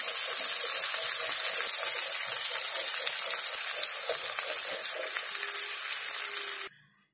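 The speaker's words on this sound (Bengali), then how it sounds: "জাস্ট 2 মিনিট মতো আমি এটাকে ভাজবো একটু" Mixed vegetables lightly frying in oil for a mixed pickle give a loud, even, continuous sizzle heard up close, which cuts off abruptly near the end.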